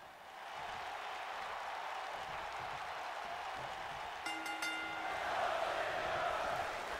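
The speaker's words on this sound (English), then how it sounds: "the crowd, man, they are right back behind Ziggler again" A wrestling arena crowd in WWE 2K19 cheers in a steady, broad roar that swells toward the end, with a brief tonal horn-like burst cutting through midway.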